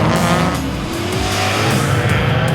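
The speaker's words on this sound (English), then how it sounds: "It's a 1967 Ford Mustang. It's running a 289 stroker, and about 350 horsepower." 1967 Ford Mustang with a 289 Windsor stroker engine of about 350 horsepower driving, a loud, steady, close engine roar with a low throbbing rumble and no talking.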